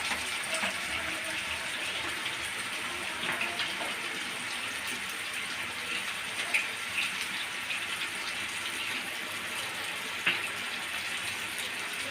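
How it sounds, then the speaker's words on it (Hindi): Boiled potatoes frying in oil for caramelized sweet-and-sour potatoes, a steady, close hiss of sizzling oil with a few faint pops and clinks. "अब इन्हें मैं जब तक फ्राई करूंगी जब तक ये गोल्डन ना हो जाए"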